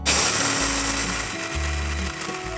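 Electric grinder pulverising roasted chickpeas into powder: a loud, steady whirring motor with pulsing shifts in pitch as the load changes, running alone for a couple of seconds.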